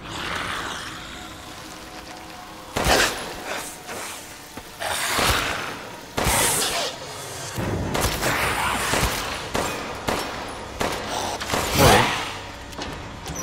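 Gunfire in the video game Resident Evil Village on PS5: sharp, loud shots ring out at irregular intervals, some in quick pairs, amid thuds and ambient game noise.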